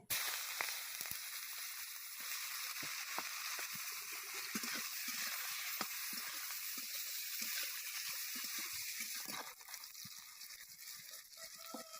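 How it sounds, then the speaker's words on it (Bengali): Chopped onion frying in hot oil, a continuous soft hiss and crackle that runs evenly throughout and eases slightly near the end. "ওই একই তেলের মধ্যে দিয়ে দেবো পেঁয়াজ কুচি"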